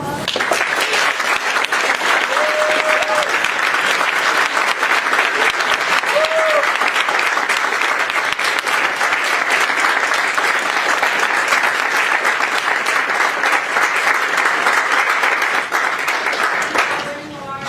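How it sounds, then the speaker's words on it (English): An audience applauds steadily after a lecture, a dense sustained wash of clapping that carries on for many seconds before trailing off at the end. "Can you have another round of applause?"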